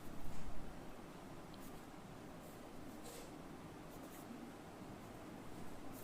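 A pen writes numbers on paper, giving faint, continuous scratchy strokes with a slightly louder start. The surroundings are otherwise quiet.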